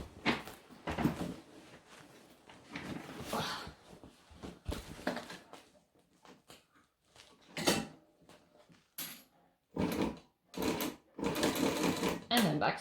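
A home sewing machine stitches in stop-start bursts, racing briefly, pausing, then backing up with a quick back stitch before running on, close and clear, with occasional soft clicks between runs.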